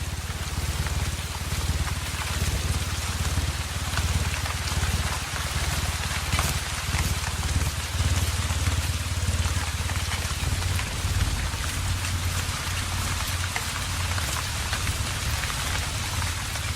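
Steady, heavy rain falls in the Atlantic Forest, a continuous close hiss of drops striking leaves and surfaces with no pauses throughout.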